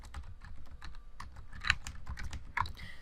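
A computer keyboard being typed on with quick, uneven keystrokes, close and fairly quiet, with a couple of sharper key hits and no voices.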